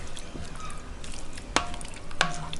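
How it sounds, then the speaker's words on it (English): A spoon stirs a crock pot lasagne mixture with fresh basil, giving soft wet scraping and a couple of sharp clinks against the pot, close and with no voices. "give it a bit of a stir"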